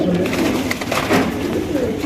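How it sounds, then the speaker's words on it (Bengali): Pigeons kept in a loft coo nearby in low, throaty repeated calls over a busy background of rustling and flutter, with some faint voices. "এই যে একটা কবুতর আছে"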